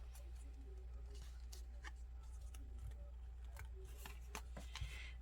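Scissors snip through paper while trimming a piece to fit an artist trading card, a few faint, quiet cuts and light rustles over a steady low hum.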